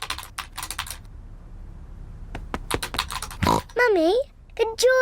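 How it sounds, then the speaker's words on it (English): A cartoon pig mother typing on a computer keyboard in a bursty run of quick clicks, followed by snorting oinks and cartoon voices talking. "Peppa and George love to watch Mummy work on the computer."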